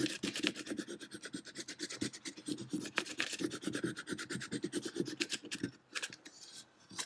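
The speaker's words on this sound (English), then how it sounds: "Go back with my scraper." A Cricut scraper rasps rapidly back and forth, pressing vinyl onto a coffee mug, a steady close scratchy rubbing that slows and thins near the end, with no talking.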